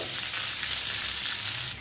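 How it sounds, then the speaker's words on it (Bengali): Chopped onion frying in hot oil over tempering spices in a pan, a loud continuous close sizzle with faint stirring texture, cutting off slightly at the end, no talk. "এখন এই পেঁয়াজগুলো খুব ভালো করে ভেজে নিতে হবে"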